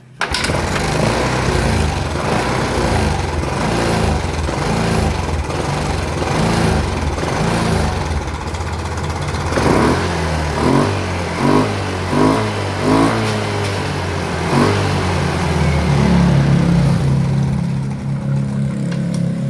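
A carbureted Yamaha Xeon motorcycle engine fires up and runs loud and close, with repeated throttle blips and revs rising and falling over a steady engine drone.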